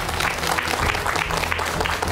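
A lecture-show audience claps to welcome a doctor onto the stage, the applause continuous and moderately loud across the whole short stretch with no voices over it.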